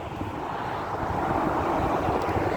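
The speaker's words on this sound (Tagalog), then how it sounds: "Pero parang lalakas yata talaga to. Kasi parang malakas yung patak eh oh." Heavy rain falls outdoors as a steady, dense hiss with a broad rushing roar, continuous and fairly loud throughout, with no voices.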